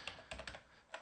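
Quiet keystrokes on a computer keyboard, several light taps in a quick uneven run over about a second, close and alone with no voice.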